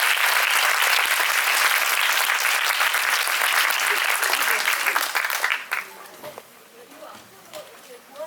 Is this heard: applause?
yes